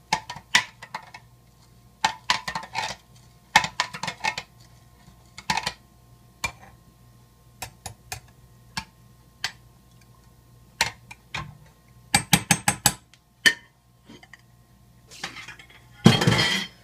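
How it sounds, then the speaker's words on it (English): A spoon stirs kombucha in a glass container, making bursts of bright clinks and scrapes against the glass, separated by short quiet gaps. "Stir it up a little bit more."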